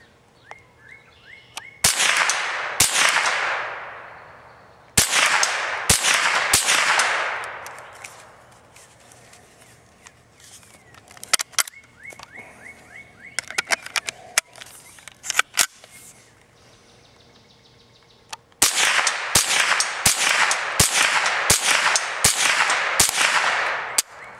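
A .22 caliber 10/22 rifle fired with a Shooter's Ridge magazine, sharp cracks in bursts with pauses between, several close rapid shots at the start and a dense string near the end until the magazine runs empty; faint voice in the gaps.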